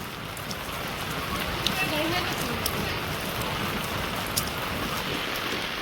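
Steady rain falls in a Bangladeshi village, a continuous close hiss of drops on surfaces with occasional sharper patters.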